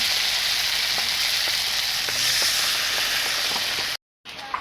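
Water hits a sizzling paste of ground pepper and dried chilli that has been fried until the oil separated, producing a loud steady hiss with light stirring ticks that cuts off abruptly near the end.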